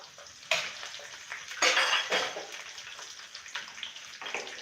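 Curry leaves dropped into hot tempering oil for dhokla: loud sizzling and crackling bursts up, then settles into a softer, continuous spitting fry with scattered pops, close by and without talking.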